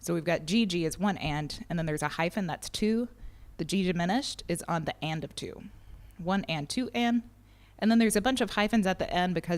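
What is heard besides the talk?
No everyday noise stands out behind the speech.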